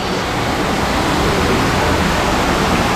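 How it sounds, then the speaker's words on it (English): Waterfall beside the Flamingo Las Vegas hotel pool, a steady, loud rush of falling water that fills the whole moment without pause, close by and unbroken. "Right by the waterfall."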